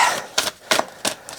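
Tarot cards being shuffled by hand, heard as four short, crisp papery bursts spaced evenly apart, close and fairly soft against a quiet background.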